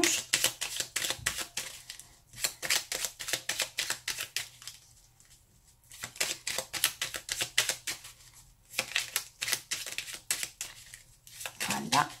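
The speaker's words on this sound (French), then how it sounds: "Donc on mélange." Tarot cards being shuffled by hand for a December 2018 Virgo reading, a rapid series of crisp riffling flicks in bursts with short pauses between, close and fairly quiet with no talk over it.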